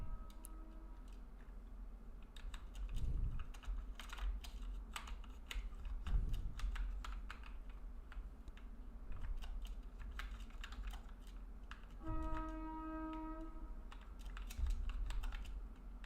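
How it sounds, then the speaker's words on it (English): Fingers type on a computer keyboard during a JavaScript coding session, producing quiet, rapid, continuous key clicks with a few short bursts of louder tapping. "My typing speed sucks. 30 words per minute."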